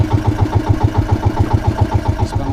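Small 14-horsepower boat engine running at a fishport, a steady rapid chugging pulse close by and fairly loud, with no talk over it.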